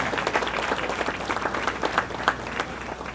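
Applause for a school debate and eloquence team at a hotel event, dense clapping from a room full of people, close and steady throughout.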